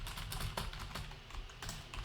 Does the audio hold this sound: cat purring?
no